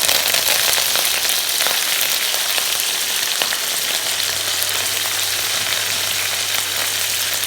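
Mustard seeds, cumin and curry leaves fry in hot oil with a dense, continuous crackling sizzle, steady and fairly loud throughout with faint occasional pops.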